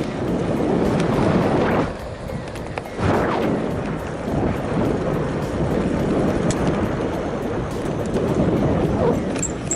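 Steady, loud wind roar buffets the microphone while riding an ANCHEER electric bicycle at about 20 mph on throttle and pedaling, a constant broadband rush with brief dips and no talk.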